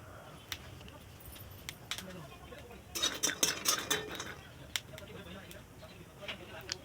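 A metal spoon or spatula stirs roasted peanuts in a kadhai, giving close, irregular clinks and scrapes. A denser flurry of rattling comes in the middle, over a steady background hiss.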